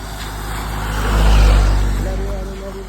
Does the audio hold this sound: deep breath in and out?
no